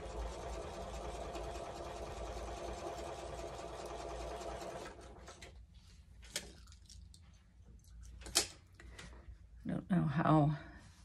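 A sewing machine stitches quilt strips in a steady, close mechanical whir for about five seconds, then stops, followed by a few clicks and handling noises as a person begins talking.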